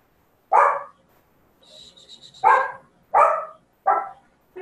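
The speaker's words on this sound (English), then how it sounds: "going to mute my barking dog for a moment" A dog barks in four loud, close bursts spaced about a second apart, with a faint high chirping sound in between the barks.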